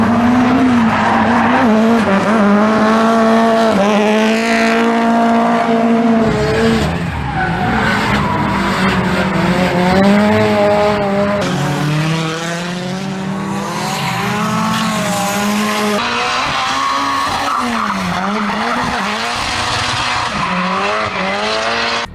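A Nissan 300ZX Z32 with a twin-turbo 3-liter V6 races in a Need for Speed video game, its engine revving loudly with rising and falling pitch through gear changes, mixed with continuous tire squeal and skidding.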